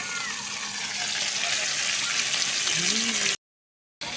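Fish frying at night in a pan on a clay stove, a continuous loud sizzle and bubbling hiss close by, with a brief faint squeal near the end before a short gap.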